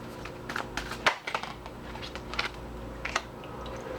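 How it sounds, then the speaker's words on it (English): A Hoodoo Tarot deck is shuffled up close, with soft papery riffles and flicks coming in irregular bursts and a sharper snap near the one-second mark, all over a low steady background hum. "I'm back here shuffling my Hoodoo Tarot here, which I use primarily for root work."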